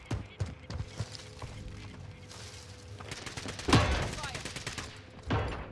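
Gunfire in the Call of Duty Cold War Warzone video game: a rapid string of shots with thumping impacts, rising to a louder burst near the end, heard without speech.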